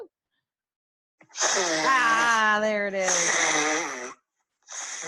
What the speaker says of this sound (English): Trying to blow your nose in a tissue?